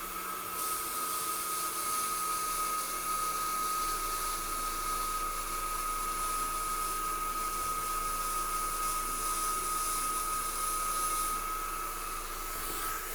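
Atomstack X20 Pro 130W laser cutter cutting through material in a workshop, producing a continuous, steady hiss and whine with a high-pitched tonal drone. It is moderately loud and even throughout, with no talking.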